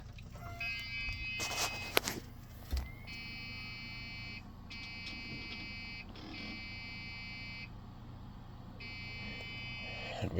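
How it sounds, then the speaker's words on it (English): A Dell Dimension 3000 desktop computer, side panel off, gives repeated high electronic beeps at power-up, several long tones with short gaps, faint under room noise and a few knocks. "We don't know why it's beeping"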